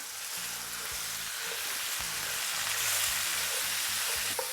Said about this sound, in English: In the same skillet, I'm going in with my ground beef. I'm using the bacon fat.